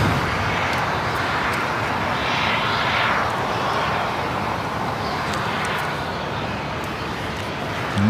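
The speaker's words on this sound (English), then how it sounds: "The next takeoff, the Dreamliner already lined up." Boeing 787 Dreamliner taking off at LAX, a loud, steady jet engine roar filling the whole stretch with no voices over it.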